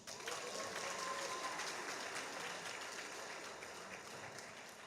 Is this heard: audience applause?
yes